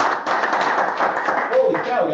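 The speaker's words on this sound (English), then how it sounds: "Round of applause." Clapping from a real estate seminar audience, a busy patter of hands that carries on under a talking voice, with a brief tonal sound near the end.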